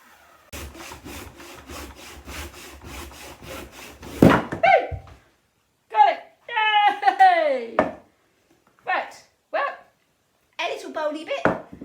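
A handsaw rasps through a wooden crotch log held on a lathe in rapid back-and-forth strokes, steady and close for several seconds. The sawing then stops, and scattered short bursts of other noise follow.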